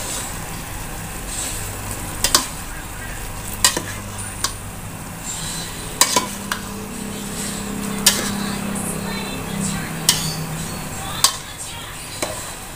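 Pansit bato noodles from Bicol are stir-fried in a pan, with a steady low sizzle broken by repeated sharp clacks of a utensil against the pan at irregular intervals.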